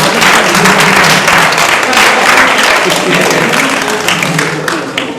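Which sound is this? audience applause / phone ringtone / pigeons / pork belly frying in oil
audience applause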